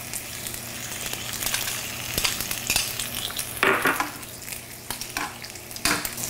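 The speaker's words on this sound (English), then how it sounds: "And then I'll add the shallots to this side over here." Shallots fry and sizzle in a hot pan, a steady close crackle and hiss with a few sharper pops and stirring scrapes, no voices.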